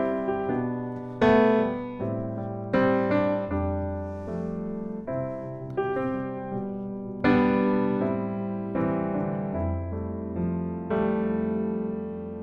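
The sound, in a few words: piano played with full, rich chords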